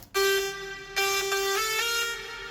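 A bright, layered synth lead plays a short melodic phrase of sustained tones with rich harmonics, alone, with a brief reverb tail.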